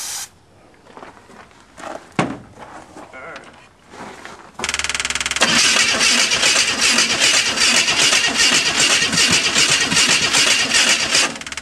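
A 1926 Hudson engine cranks on starting fluid after a few quiet seconds with scattered clicks. It then roars into a loud, sustained, rough run that carries to the end, close by.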